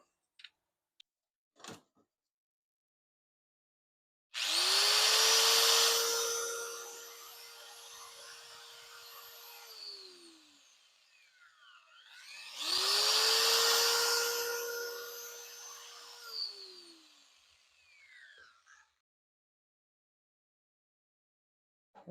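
Wood being sanded smooth with 3000 grit paper while it spins on a lathe: two long, rough rushing bursts, each swelling loud and then easing off before stopping, with quiet pauses between.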